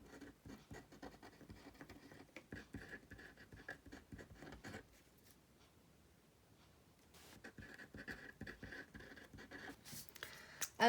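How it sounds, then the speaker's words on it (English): Pen writing on a Happy Planner page, a soft scratchy scrawl of short strokes that pauses for a few seconds midway and then resumes, quiet and close with no talking. "let me write down just a few things that I need to do"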